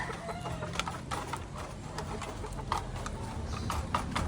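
Several hens cluck softly and intermittently close by, a busy overlapping chatter of fowl over a steady low background hum.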